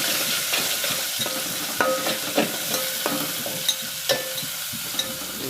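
Ginger, garlic and curry leaves fry in a hot pan, a steady close sizzle with scattered crackles and spoon-stirring scrapes over about five seconds, no voices.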